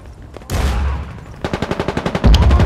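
Gunfire in the multiplayer video game Medal of Honor Warfighter: a loud burst of noise followed by a rapid, evenly spaced automatic volley of shots, close and punchy, with no talk over it.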